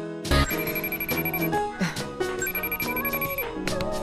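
A phone rings in a film scene with a repeating electronic ringtone pattern. It plays twice over a busy musical soundtrack.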